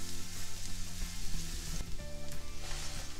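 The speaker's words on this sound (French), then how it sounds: "là à feu moyen, nos épinards vont cuire très rapidement" Spinach sizzling over medium heat in a sauté pan with shallots, a steady close crackle of frying that swells and fades slightly as it is stirred.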